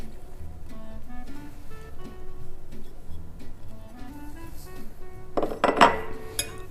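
Salad ingredients being mixed in a bowl give a few faint clinks early on, then a louder burst of utensil scraping and clattering near the end. Quiet background music plays throughout.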